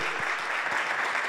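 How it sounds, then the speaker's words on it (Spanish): A short burst of steady audience applause for the biologist Salvador Donghi, closing his talk on biodiversity and the environment. The clapping is dense and even throughout, with no voices over it. "un aplauso para Salvador"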